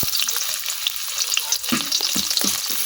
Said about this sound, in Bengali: এখন দিয়ে দিতেছি কাটে রাখা পেঁয়াজ।